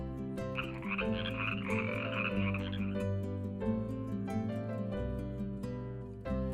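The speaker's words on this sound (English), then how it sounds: "It will be a frog." Frog croaking as a sound effect in a children's read-along book, a dense raspy chorus of croaks over a soft musical background.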